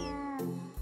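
A hungry cat meows close by, one drawn-out tonal cry followed by a shorter rising call, clear with no voices over it.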